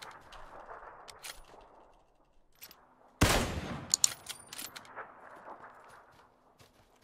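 Gunfire in the battle royale game PUBG: a sudden loud burst of shots with a sharp onset, followed by scattered lighter cracks and clicks over faint game ambience.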